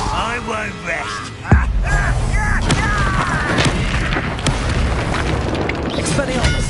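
Confringo blasting spell explosion in a Harry Potter video game: a sharp boom bursts out near the start, followed by crackling impacts and a dense, busy layer of battle sounds and game effects throughout.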